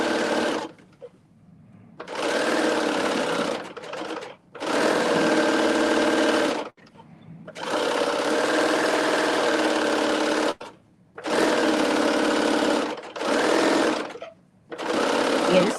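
A serger overlocks fabric edges, its motor whirring in loud, close bursts of one to four seconds with short quiet pauses between runs.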